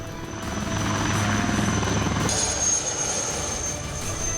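An HAL Dhruv (ALH) helicopter thunders steadily close by, a dense rotor and engine roar with a low throbbing beat and a high turbine whine running the whole time, alone with no voices.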